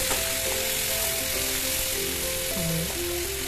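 Potatoes fry in a pan with a steady, close sizzle that holds evenly throughout, while tonal melodic notes play faintly in the background.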